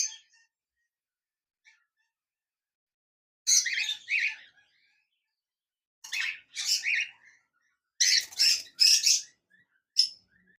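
Cockatiels at a bird farm give several bursts of shrill chirps and squawks from nearby, separated by silent gaps, with no talking.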